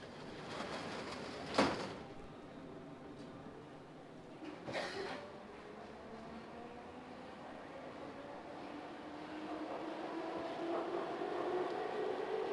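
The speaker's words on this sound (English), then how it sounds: "ran down the escalator, and just managed to get into the same carriage as Gwen." An underground train carriage in motion, a steady rumbling roar with two sharp rattling clacks early on and a rising whine as the train speeds up, heard from inside the car.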